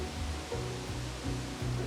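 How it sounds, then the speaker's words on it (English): A waterfall in the Blue Mountains pours as a steady, moderately distant rushing hiss, overlaid by a low periodic rumble that rises and falls roughly every third of a second. "After a very steep descent, we were greeted by this waterfall."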